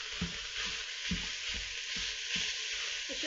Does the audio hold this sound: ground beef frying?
yes